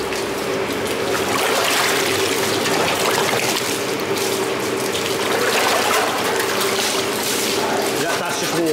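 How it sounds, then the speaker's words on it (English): Clean water is rinsed over a neon sign, producing a loud continuous hiss and splash of running water, close and steady throughout, with people talking in the background. "That's just water. That's just clean water, yeah. Yeah, rinsed it off."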